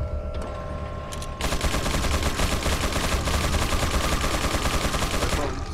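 Sustained automatic machine gun fire in the Resident Evil 4 video game, a dense rapid burst of loud shots that starts abruptly after a short quiet lead-in and hammers on continuously until near the end.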